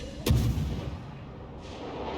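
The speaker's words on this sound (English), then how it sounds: "so I open my guns up finally" A World of Warships naval battle: a Gemyashchy warship's main guns fire one loud, sharp salvo that booms and rumbles away, followed by steady low background drone.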